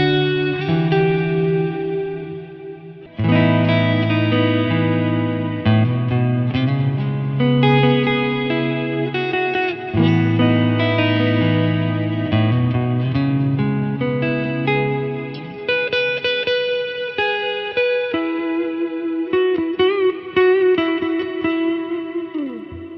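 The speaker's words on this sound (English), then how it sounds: "we have the decay set at 5 seconds, so it's a quite long reverb" Valhalla Room 2.0 reverb set to a long 5-second decay washes over sustained, chorded synth or guitar tones, with layered notes ringing and blurring into a thick, lingering tail throughout.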